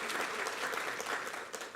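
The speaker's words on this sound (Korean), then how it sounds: "우리 하나님께 감사와 영광을 박수를 드리겠습니다" A congregation claps together during a Sunday worship service in a Korean church, producing dense, steady applause that fills the whole short moment without pause.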